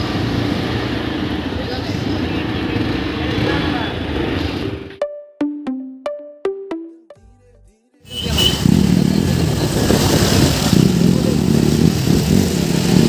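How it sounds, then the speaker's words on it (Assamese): A group of around fifty Hero Xpulse 4V 200 motorcycles rides off together, engines droning loud and close with rising revs, interrupted midway by a series of sharp musical tones and a brief silence before the engine roar returns. "ৰাইড ষ্টাৰ্ট হৈ গ'ল প্ৰায় 50খনমান বাইক গৈছে আমাৰ গোটেই এক্সপালছ 4V"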